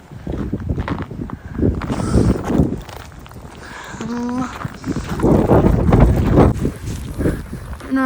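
Strong wind gusts during a Canadian snowstorm roar steadily into the microphone, buffeting it in waves, with someone talking over it throughout.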